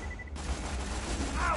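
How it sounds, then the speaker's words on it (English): A submachine gun fires in Borderlands 2 as a quick, rattling burst of close, punchy shots that runs unbroken for under two seconds. No one speaks over the gunfire. "This gun shoots a little sporadically."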